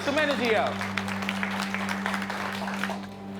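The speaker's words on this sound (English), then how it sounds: "Yeah, clap it up." An audience at a poetry slam showcase claps and cheers, a sustained patter of applause under a steady hum, beginning just after a voice and continuing alone at moderate level.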